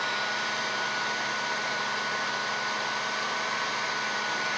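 A heat gun blows steadily and closely, warming leftover glue on a Wurlitzer 200A electronic piano jack spring; a continuous even airy roar with no pauses.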